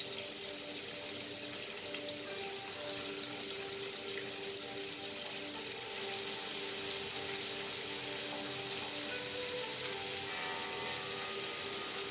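Chopped onions frying in a pan for rajma chawal, a steady crackling hiss that runs evenly throughout with no talking, tonal kitchen hum lying underneath.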